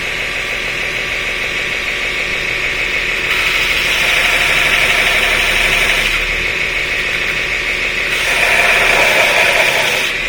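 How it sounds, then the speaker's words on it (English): A belt grinder runs at about half its normal speed, putting out a loud, steady motor drone and abrasive whir that swells slightly in places, with no voices. "Get the belt grinder probably going about half its normal speed"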